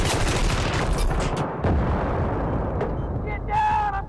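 Grenade blasts and dense gunfire roar up close in the video game Battlefield 3, with heavy booming bursts and crackling shots.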